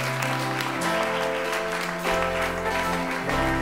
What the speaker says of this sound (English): Come on, let's give Jesus a round of applause.